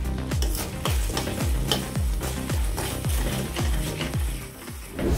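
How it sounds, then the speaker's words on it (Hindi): Masala for Dhaba-style methi matar malai frying on a medium flame, a steady sizzle with a regular rhythm of stirring scrapes about twice a second, close and loud, no talking. "इसे मीडियम फ्लेम पर 5 से 6 मिनट फ्राई कर लेंगे।"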